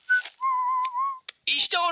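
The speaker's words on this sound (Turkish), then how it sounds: "Keyifli ıslık çalıyor." A cartoon character whistles cheerfully, with a bright sustained tune broken by short pauses, close and clear, followed by a brief burst of voice.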